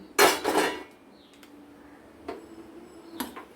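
A metal wok is set down on a gas stove, opening with a loud clattering knock of metal on metal, then a few sharp, fainter clinks and taps spaced apart.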